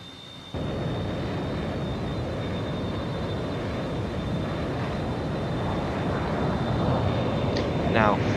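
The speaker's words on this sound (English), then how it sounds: "we finally get to see the Invasion F-14 finally taking off on its classic runway 23" An F-14 jet roars steadily as it takes off from runway 23, a loud, unbroken engine rumble with a thin high whine that keeps building toward the end.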